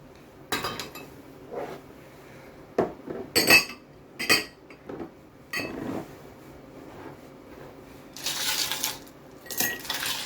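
Ice cubes drop into a glass for a homemade blended pineapple, green apple and ginger drink, giving several separate sharp clinks and rattles with quiet gaps between them.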